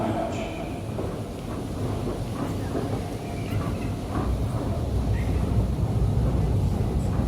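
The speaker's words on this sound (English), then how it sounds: "our train is here, so let's continue the journey" A train rumbles and clatters steadily nearby as it arrives, a low continuous roar that grows slightly louder toward the end.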